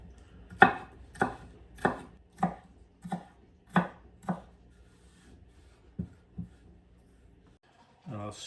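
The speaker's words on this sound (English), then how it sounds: "And now go around radial cuts, making a fine mince." A knife finely minces a halved onion on a cutting board, about ten sharp, evenly spaced chops up close, then a brief scrape at the end, with no talk.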